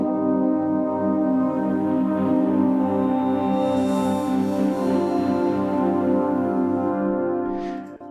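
Synth pad from a demo track with its plugins removed holds a dense, steady, sustained chord for several seconds before trailing off at the end.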